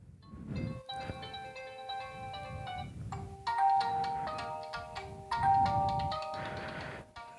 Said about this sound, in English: So classic, that is a default alarm.